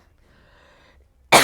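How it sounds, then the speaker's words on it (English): A single loud, sharp cough bursts out at the end after near silence, close to the mic. "As I cough."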